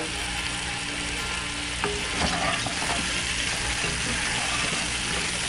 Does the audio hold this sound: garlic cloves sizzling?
yes